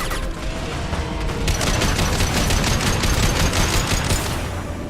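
Heavy weapons fire in a sci-fi video game battle, with dense rapid bursts of shots rattling continuously at high volume, layered over a loud roaring background and no talking.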